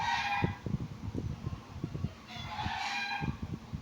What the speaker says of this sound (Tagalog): Those chickens, you hear them.